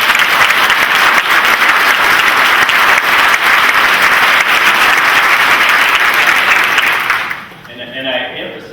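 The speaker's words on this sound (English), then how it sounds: "Give the nursing program a round of applause" Sustained applause from a college convocation audience for the accredited nursing program, a dense steady clapping that fills the hall for about seven seconds before abruptly dying away into a few scattered claps.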